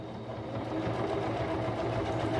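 A sewing machine running a seam on a patchwork rug made from denim jeans, a close, steady rapid mechanical chatter heard alone for a couple of seconds.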